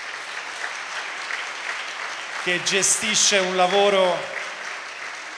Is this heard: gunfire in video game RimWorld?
no